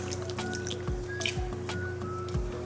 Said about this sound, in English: I take my apple cider vinegar and I pour an obnoxious amount over top